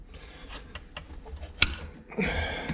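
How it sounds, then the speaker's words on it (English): A replacement wire trigger on a 220 or 330 body-grip trap is clamped down, making creaking metal clicks and a sharp snap followed by grinding, close and isolated with no speech. "And then clamp them in."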